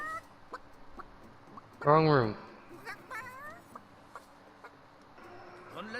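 A rooster in the video game Divinity: Original Sin lets out one loud, close burst of clucking midway, with spoken dialogue before and after it.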